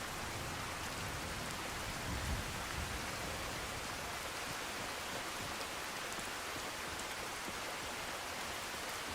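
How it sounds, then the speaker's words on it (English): Steady rain in the video game Skyrim, a dense continuous hiss of falling water that stays constant and fairly loud throughout with no voices. "It's still raining."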